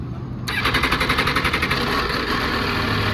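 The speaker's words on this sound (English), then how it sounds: "Beautiful triple motor sound for a stock exhaust" A 2022 MV Agusta F3 800RR's triple engine with stock exhaust cranks over and fires, then settles into a loud, close, throbbing idle with a quick, even pulse.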